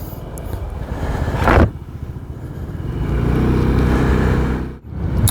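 A 2021 Honda PCX 125 scooter starts with a short whirring crank, then its engine settles into a steady close idle. Near the end it is briefly cut and fired up again.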